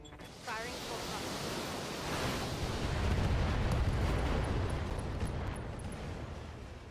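Mech weapons fire and explosions in the video game Battletech form a dense, continuous roar of blasts and rumbling that builds and holds steady, loud and close, with no clear gaps between the bursts.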